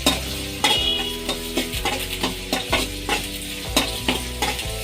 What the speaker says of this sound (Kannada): ಇವೆಲ್ಲ ಹಾಕ್ಕೊಂಡು ಸ್ವಲ್ಪ ಚೆನ್ನಾಗಿ ಫ್ರೈ ಮಾಡ್ಕೊಳ್ಳೋಣ.